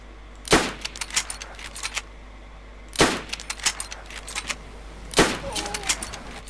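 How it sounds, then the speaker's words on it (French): Three loud, sharp gunshots spaced a couple of seconds apart in DayZ Standalone, each followed by brief rattling and clicking, with quieter game noise between them and no voices. "je tire 3 fois sur le mec"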